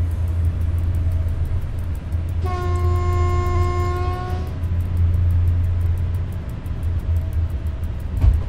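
A train passing in the SimRail train simulator game, with a steady heavy rolling rumble and a loud two-second horn blast in the middle, then the rumble continuing.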